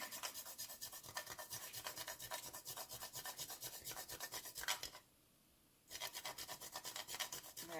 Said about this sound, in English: I have some chocolate bars which I'm going to scrape it to cover the top of the cake.